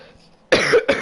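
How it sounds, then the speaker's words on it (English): A person coughs twice in quick succession, close and loud, with a harsh burst followed by a shorter second cough, heard over a quiet background during a livestreamed F1 2017 racing game commentary. "I've got a really bad cough."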